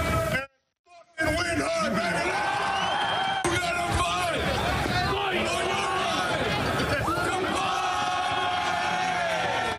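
Big crowd at a Grey Cup celebration for the Saskatchewan Roughriders, loud shouting, whooping and cheering with a babble of voices, briefly cutting out near the start before surging back dense and energetic.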